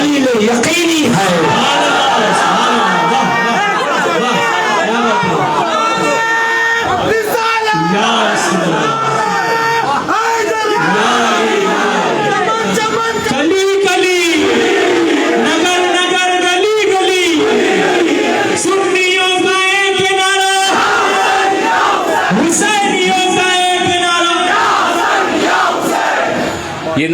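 A large crowd at an Urs religious gathering in a town hall in Mohammadpur, Bangladesh, chants religious slogans in loud, repeated call-and-response bursts, with voices swelling and falling together and a leader's voice over them.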